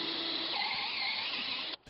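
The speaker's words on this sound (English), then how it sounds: "we finish it off from the other side with the same size drill bit on a cordless" A cordless drill with a wood bit bores through an oak post for a timber-frame gazebo, a steady loud whir for almost two seconds that stops abruptly.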